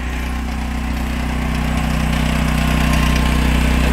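A Duromax XP10000e generator with a small silencer fitted runs right up close, a loud continuous droning engine hum that swells slightly and holds steady throughout.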